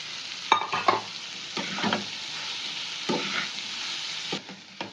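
Potato and boiled soybean for a Kolkata street-style egg roll filling sizzle in a pan, with steady frying hiss broken by repeated scraping stir strokes, close and alone.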